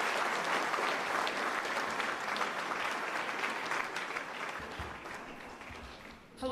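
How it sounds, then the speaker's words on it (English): Steady, dense applause from a large audience at a city press event, loud and continuous for several seconds before tapering off near the end. "So give the team a round of applause,"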